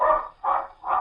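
A black and white water spaniel barks twice in a radio drama, two loud, drawn-out close woofs separated by a short pause, with no talk over them.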